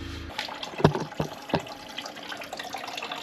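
Coolant from a disconnected hose on a DIY mini loader splashes and drips into a container, with a few sharp close splashes over a faint steady trickle.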